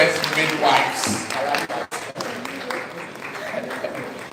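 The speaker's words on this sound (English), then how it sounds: "Another round of applause for the business midwives." Scattered audience clapping at an Africa Climate Week panel session, mixed with a speaking voice, with a few sharp gaps and uneven claps throughout.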